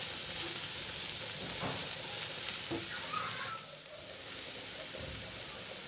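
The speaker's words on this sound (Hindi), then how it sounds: "इसको एक मिनट भूनने के बाद" Carrots and capsicum fry in a pan with a constant, close hiss, joined by occasional stirring scrapes that ease off briefly near the end.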